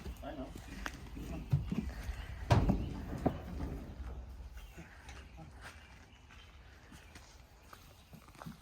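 A wild horse shifting and stepping inside a trailer, hooves thudding and clopping on the floor with a louder knock partway through, under someone talking.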